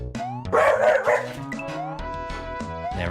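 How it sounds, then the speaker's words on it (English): Barking dog sound effect from a Kaizo video game, several yips and bow-wows mixed with bright chiptune-style game music, tones and sliding blips, heard at moderate level with no voices. "We're gonna hear a barking dog in a second here."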